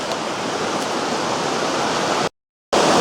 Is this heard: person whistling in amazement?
no